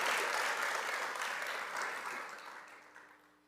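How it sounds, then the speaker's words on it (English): A large graduation audience breaks into a round of applause, a dense wash of many hands clapping that starts loud and gradually fades out over a few seconds, with no voices on top. "So a round of applause for them."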